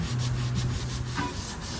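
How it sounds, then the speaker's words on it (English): Steady abrasive rubbing of sanding on a pine guitar body, near and continuous, with a low hum underneath and no talk. "Sanding, sanding, sanding,"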